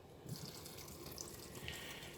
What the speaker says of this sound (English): I'm going to go ahead and pour a can of ginger ale in